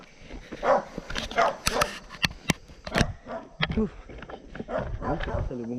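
Several dogs barking and yipping in short bursts on a mountain trail run at Mount Parawagan, with people talking over and between the barks.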